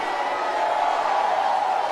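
Many worshippers in a church congregation shout together, forming a sustained wash of crowd voices with faint whoops, steady in level.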